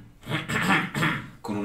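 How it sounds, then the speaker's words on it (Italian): A throat-clearing demonstration in which the false vocal folds vibrate, giving three short rough rasping bursts, close and moderately loud, with no words spoken. "ed è quello dello schiarirsi la voce o il colpo di tosse."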